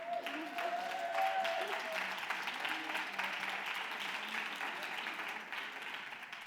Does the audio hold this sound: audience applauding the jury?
yes